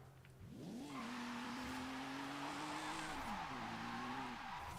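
A Crown Victoria police car in a video game does a burnout, its engine revving up and holding a loud, steady howl over screeching tires, dipping briefly before climbing again, with no talk.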